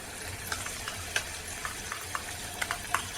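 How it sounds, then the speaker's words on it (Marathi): Ground masala paste for a restaurant-style paneer dish sautés in a pan with a soft, steady sizzle, punctuated by light, irregular scraping taps from stirring; fairly close and quiet, with no talking. "आता परतून घेऊ आणि जो आपण मसाला तयार करून घेतलेला आहे मिक्सरला वाटलेला तो आता याच्यामध्ये ॲड करायचा आणि व्यवस्थित परतून घ्यायचा"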